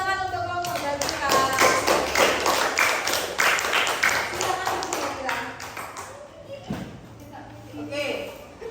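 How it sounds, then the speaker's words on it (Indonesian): A classroom applauds a student group, several seconds of lively clapping from many hands that thins out and trails off into a few scattered claps, with talking voices mixed in. "tepuk tangan untuk kelompok Zakira."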